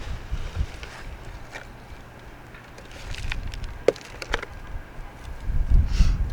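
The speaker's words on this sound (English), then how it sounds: "it is very windy" Strong wind blows outdoors, rumbling and gusting in low, buffeting waves that swell loudly near the end, with faint knocks and rustles over it and no talking.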